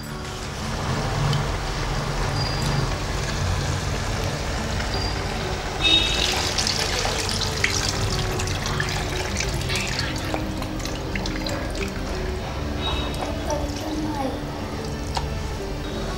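Water poured into a fish curry simmering on a gas stove, heard as a steady close rush of liquid with a faint clatter of a pan, running continuously without pause.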